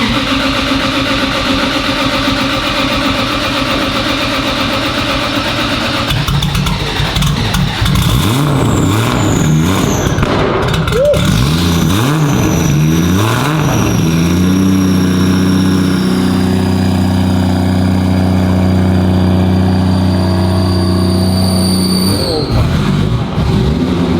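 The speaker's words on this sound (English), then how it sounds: "Wow, that is a straight pipe." Straight-piped drift car engine idling with a deep, steady low rumble that shifts pitch and swells with revs midway, loud and close throughout.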